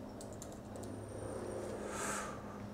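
Computer keyboard typing as someone enters a search for Facebook Ads on the ComeUp freelance platform, a steady patter of soft, close key clicks over faint background hiss with no voices.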